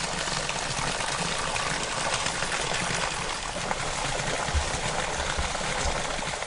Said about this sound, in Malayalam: 10 മീറ്ററോളം അകലെയുള്ള ഉറവയിൽ നിന്നും പനം കഷ്ണങ്ങളിലാണ് വെള്ളം ഗതിതിരിച്ചു വിടുന്നത്